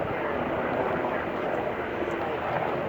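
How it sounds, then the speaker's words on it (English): A helicopter flies over Hawaii's North Shore as a steady, broad engine and rotor roar, constant and fairly loud throughout with no break, while faint voices mix into the drone. "Helicopters fly the North Shore from people having surf accidents or whatever"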